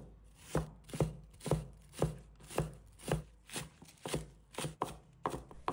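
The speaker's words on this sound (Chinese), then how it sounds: "把它切成葱花" A knife chops green onions into small scallion pieces on a cutting board. About a dozen crisp, evenly spaced thuds ring out close and clear at a steady rhythm, with no talking.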